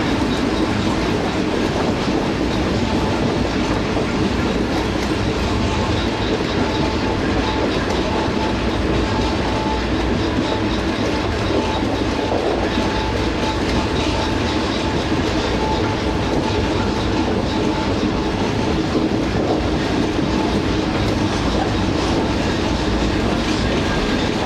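Train rolling slowly through Qila Sheikhupura Junction, a steady rumble of wheels with soft clickety-clack over rail joints that stays loud and continuous throughout, with no talk.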